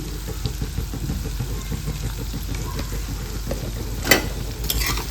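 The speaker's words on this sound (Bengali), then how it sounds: "দিয়ে আবার একটু নেড়ে নিচ্ছি।" Chili pickle fries gently in a pan on low heat while being stirred. A steady, close sizzle runs beneath rhythmic scraping strokes, with a brief sharper clatter near the end and no speech.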